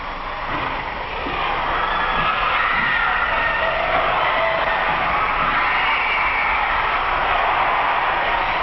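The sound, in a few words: crowd cheering at a school championship game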